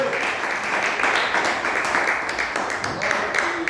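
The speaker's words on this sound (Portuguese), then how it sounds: "aplauda o nome do Senhor pela sua palavra nessa noite" Church congregation applauding at an evening service, a dense, steady wash of many hands clapping throughout.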